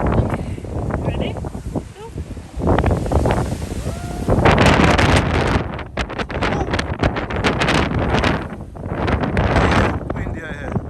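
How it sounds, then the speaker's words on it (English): Strong wind blows outdoors and buffets the microphone in loud roaring gusts that rise and fall over several seconds, with people talking and calling out underneath. "Windy out here."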